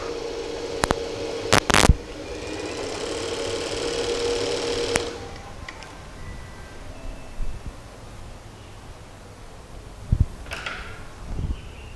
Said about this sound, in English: Ensure nothing else is underneath and your piece lies flat on the overlock.